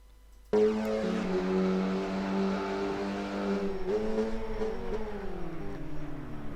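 A race car engine on a lap in the rFactor 2 racing game, starting suddenly and holding a loud, sustained rev with shifting pitch and brief dips as gears change, with no talking.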